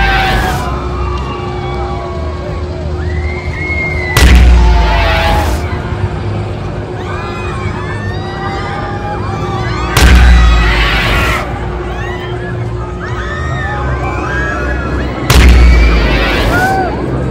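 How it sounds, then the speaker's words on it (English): Airstrike explosions in a video game: three heavy booms land at regular intervals several seconds apart, with a steady tone and chirpy effects running underneath. "We're sending an airstrike to your house."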